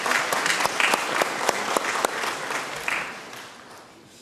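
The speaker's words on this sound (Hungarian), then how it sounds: "Tapsoljátok már meg, hát nektek nem tetszett?" Church congregation at a confirmation mass in Kartal applauding, with crisp individual claps over a steady patter that fades out over the last second.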